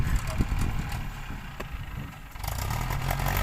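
A Ford farm tractor's engine runs close by with a firm, thumping pop-pop rhythm, low and steady, with a faint voice in the background.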